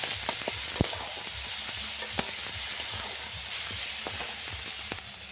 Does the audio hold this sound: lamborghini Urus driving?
no